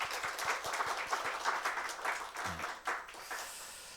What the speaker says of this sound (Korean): 여하튼 박수로 환영하겠습니다